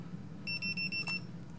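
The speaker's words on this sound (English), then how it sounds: "And you hear that beep, and that tells us that we're paired to dog number two." Remote-paired auto spray bark dog collar gives a quick series of four short high-pitched electronic beeps, faint and close, over low background hum.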